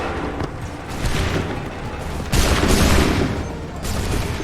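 Musket volleys in Assassin's Creed III, loud overlapping gunfire bursts arriving in several waves with crackling reports and booming echoes, a sharp heavy volley around the middle.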